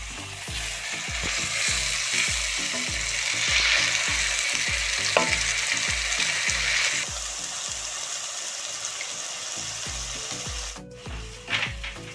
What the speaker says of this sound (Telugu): ఇప్పుడు అల్లం చిల్లిపాయ పేస్ట్ వేసుకొని కలిపిపోవాలి